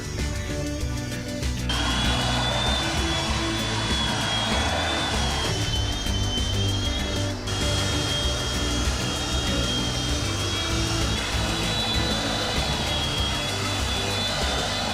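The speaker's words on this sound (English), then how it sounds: "Once all the shelves are cut out, I use a belt sander to clean up the edges." A belt sander cleaning up the cut edges of welded bookshelf shelves, a loud, continuous close whine with a high tonal hum and brief dips where the tool shifts, no speech.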